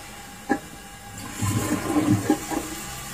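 A toilet flushing with a short gurgle, then rushing water as the bowl begins refilling, close and fairly quiet, with no voices.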